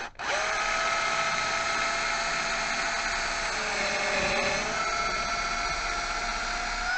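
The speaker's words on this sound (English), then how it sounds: "Hold these two together and drill a hole through the centre." Electric drill boring a hole through a small wood block, a continuous steady whine held at constant speed for several seconds after a brief start, close and alone without talk.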